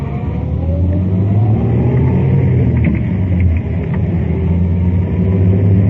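A 1950s car pulling out into traffic at night to make a U-turn, its engine running loud and steady close by with a low rumble throughout, no voices.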